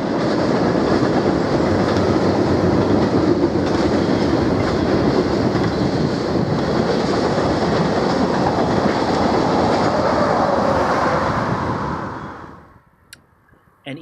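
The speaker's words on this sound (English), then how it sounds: "An eastbound empty coal train approaches a crossing in Gary Owen, milepost 765 on the Bighorn Sub." A BNSF eastbound empty coal train rumbles loudly and steadily past a grade crossing at Garryowen on the Bighorn Subdivision in Wyoming, wheels clattering for many seconds before the noise drops off abruptly near the end.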